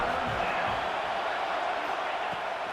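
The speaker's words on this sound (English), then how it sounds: "The Tide crowd rolling noise down on the Saban field on 3rd down" Steady stadium crowd roar at a college football game, Alabama crowd on third down in College Football 26, a dense continuous wash of noise with some speech-like murmur mixed in, moderately loud throughout.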